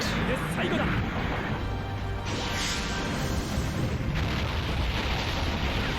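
Weapon fire and explosions from the mecha strategy game Super Robot Wars Z, a continuous rumbling barrage with a few sharper bursts layered over a steady low roar, moderately loud throughout.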